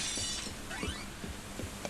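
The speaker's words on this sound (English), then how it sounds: "All the glass just keeps breaking." Glass shatters in the video game Deadly Premonition, a bright crash with tinkling shards falling over a steady noisy background, fairly quiet overall.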